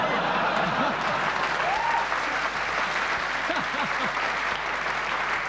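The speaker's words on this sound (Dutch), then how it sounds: "Ja, klapt u maar" A theatre audience at a live cabaret show applauds loudly and steadily throughout, with a few cheers and voices rising faintly within the clapping.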